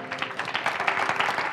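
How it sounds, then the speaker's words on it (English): Church congregation applauding together during a worship service, a steady dense wash of clapping that holds evenly throughout without any voices rising above it. "Come on, clap real big"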